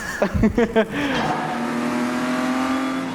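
A car chase from the film Ronin, an engine roaring and accelerating with a sustained high whine after a brief burst of speech at the start.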